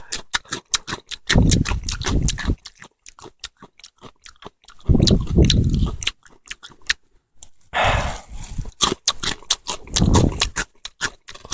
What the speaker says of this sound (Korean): 단무지를 존내 씹고 있는 이병재 씨의 모습.